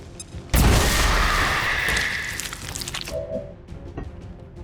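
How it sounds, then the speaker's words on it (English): A grenade blast in the video game XCOM 2 hits with a sudden loud boom and a crackling, rumbling tail that fades over a couple of seconds, followed by scattered small debris clicks. "hopefully you die to this grenade"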